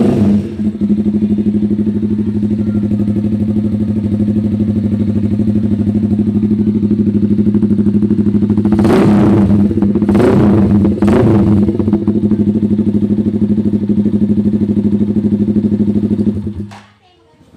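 Loud, close Motorstar z200s motorcycle fitted with an SC Project CR-T racing muffler, idling with a deep steady drone, then three sharp revs in quick succession before the engine cuts off near the end.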